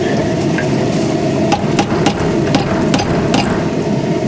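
A hammer strikes metal while making a spoon-fork combo, several sharp metallic strikes ringing out in an irregular series over a loud, steady background hum.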